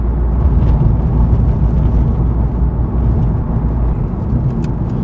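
Steady engine and road drone from a worn Mitsubishi Lancer Evolution V being driven, a continuous loud rumble with no breaks throughout.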